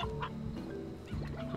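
Chickens in the video game Slime Rancher cluck in short repeated bursts, several birds overlapping at close range with a steady background hum beneath.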